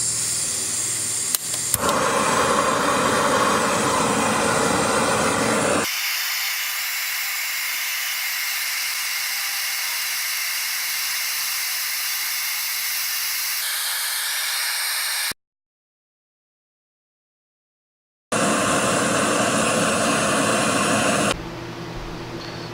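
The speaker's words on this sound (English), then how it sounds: "It sounds like a jet engine, but it boils water extremely quickly." A cheap backpacking gas stove roars loudly and steadily as it boils 1.5 cups of water, a dense jet-like hiss that runs for long stretches, cuts out briefly to silence, then returns.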